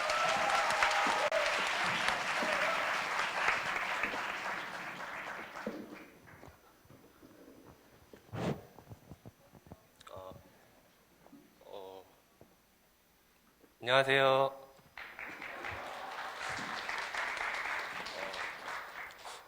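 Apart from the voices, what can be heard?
applause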